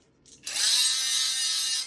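An angle grinder is briefly touched to a piece of metal to spark-test whether it is plain iron or high-speed steel. It gives a sudden loud, steady high-pitched grinding hiss lasting about a second and a half, close by with no talking.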